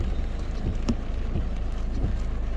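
Rain falling steadily on a flooded street in Pattaya, a dense close hiss of drops and splashing water with occasional sharper taps, no voices.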